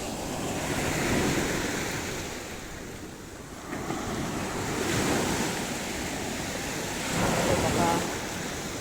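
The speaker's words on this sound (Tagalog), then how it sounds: "Malakas na ang alon." Strong ocean waves on a sea shore: continuous rushing surf with several surging swells, heavy wind buffeting the microphone throughout, loud and close.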